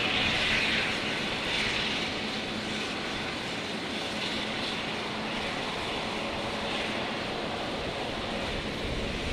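An aircraft taking off from runway 19 right at Brisbane Airport, with a loud, steady engine roar that holds at full strength throughout, heard from a distance with broad rushing noise.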